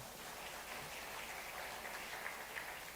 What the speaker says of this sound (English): Give Musa a clap.